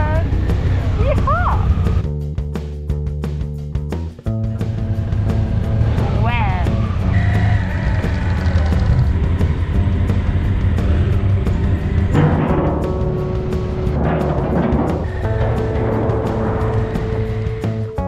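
Motorcycles rolling onto a ferry, engines rumbling and revving close by with tonal whines and changing pitch as they move, a continuous loud vehicle din with voices mixed in.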